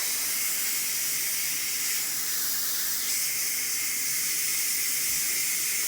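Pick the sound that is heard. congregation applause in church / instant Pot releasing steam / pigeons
instant Pot releasing steam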